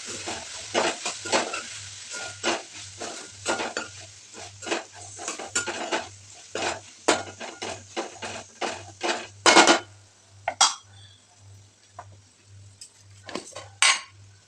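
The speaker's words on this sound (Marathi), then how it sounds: "थोडीशी धनीपूड टाकली आणि आता सगळं मिक्स करून घेते" Repeated metal scrapes and clinks ring out as a spoon stirs potato and brinjal curry with coriander powder in a pan, close and brisk over a low steady hum, with brief pauses between strokes.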